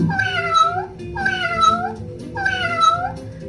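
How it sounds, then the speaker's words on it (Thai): A cat meows three times in a row, drawn-out rising and falling cries, clear and nearby with brief pauses between them. "เสียงแมวร้อง"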